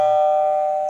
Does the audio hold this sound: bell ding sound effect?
yes